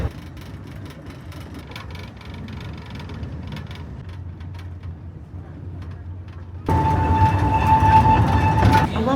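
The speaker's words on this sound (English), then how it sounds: "I love looking forward to see the train bending around the curves." A Walhalla Goldfields Railway train rolls along its track through riverside rainforest with a low, steady rumble that suddenly swells much louder near the end, bringing a sustained whine and rattling wheels.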